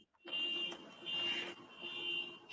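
A car alarm blares with a continuous, steady high electronic tone that swells and dips slightly in loudness over a couple of seconds, sounding fairly close and with no one talking.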